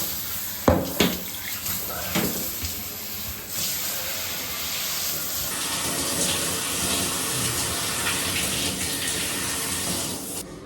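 Cold shower water running, a steady spraying hiss that settles into a continuous even flow after a few early clunks and splashes, with no voices over it.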